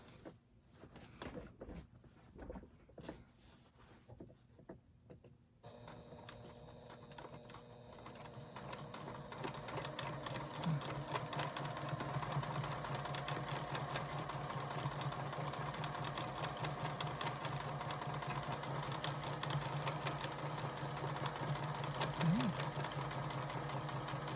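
A straight stitch sewing machine runs for embroidery, starting with a few scattered clicks and then settling into a fast, steady mechanical whir with a close, even stitching rattle that holds for about twenty seconds.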